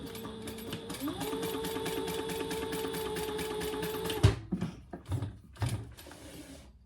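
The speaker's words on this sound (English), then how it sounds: "Turn it over and stitch underneath the third card slot." Sewing machine stitching beneath the third card slot of a cork triskele wallet, a steady close mechanical whir with rapid needle rhythm for about four seconds, then stopping abruptly and followed by a few scattered handling clunks.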